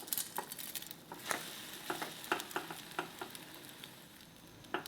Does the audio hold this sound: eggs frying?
yes